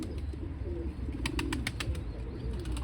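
Pigeons in a loft, including a big rust-breasted male, cooing low and steady with a burst of sharp wing flaps in the middle, close by.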